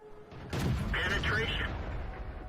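A tank cannon fires in a World of Tanks battle: one sharp, heavy boom followed by a sustained loud rumble and mechanical clatter, with a voice talking over it.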